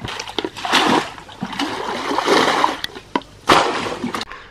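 Water splashing and sloshing in a swimming pool, several loud close bursts with short pauses between them and faint trickles in the gaps.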